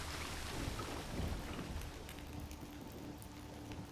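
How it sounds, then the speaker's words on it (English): Steady rain falls just outside a cave in the Witcher 3: Blood and Wine game, a dense broadband hiss with low rumbling beneath, constant and fairly close throughout, with no talking. "Ah, and of course it's raining right outside."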